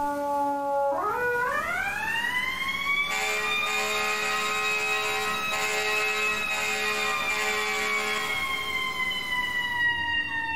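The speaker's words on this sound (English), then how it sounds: "trying to do the siren and the horn and the tiller and like everything else" An FDNY fire engine siren winds up sharply from low to a loud, steady wail that holds close and continuous, with the air horn blasting over it partway through.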